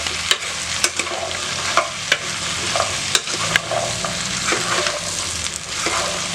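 Vegetables for aviyal are stirred as they fry in oil, giving a steady close sizzle broken by regular scraping knocks of the spoon against the pan.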